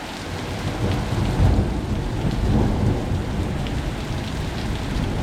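A severe summer thunderstorm roars with steady heavy rain pounding surfaces and low, distant rolls of thunder swelling underneath, a dense continuous wash with no voices.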